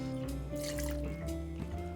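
About 1.5 ounces of vodka is poured for a mango cocktail, a short, steady liquid stream filling a vessel over a faint humming background.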